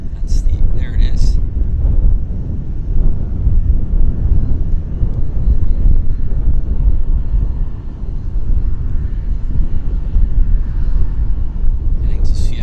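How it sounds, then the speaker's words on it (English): An Alaska Airlines Embraer jet taxis at Vancouver airport, giving a continuous loud low rumble mixed with wind buffeting on the microphone, with brief faint higher tones at the start and end. "we've got a baby Embraer taxiing out. Alaska Airlines livery, right there."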